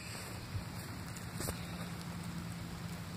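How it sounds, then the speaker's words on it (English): Rain falls steadily outdoors at night on a coon hunt, a soft continuous hiss with a few faint drop ticks, alone without talk. "And it's starting to rain pretty bad."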